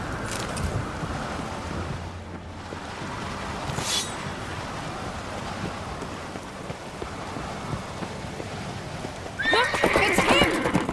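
A horse whinnies loudly near the end over a steady patter of hooves and rain-like noise, with game-style sounds running throughout, in The Witcher 3: Wild Hunt.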